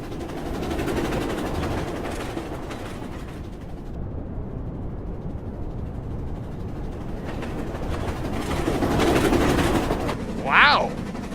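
A commuter train rolls along the rails with a low, steady rumble that swells toward the end, capped by a brief high squeal.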